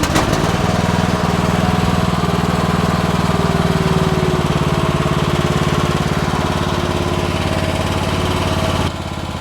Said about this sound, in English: Now if you want to know how loud these are basically just a little lawnmower engine.